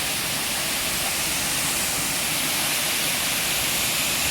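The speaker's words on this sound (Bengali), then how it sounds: "দারুণ সুন্দর ঝর্ণাটা" A waterfall roars loudly and continuously, a dense rush of falling water with no pauses.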